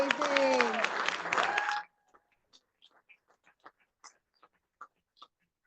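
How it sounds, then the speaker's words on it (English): An audience at a school board meeting claps in a burst of applause for about two seconds, then it stops abruptly, leaving a few scattered faint taps and clicks in a quiet room. "Can we give them another round of applause?"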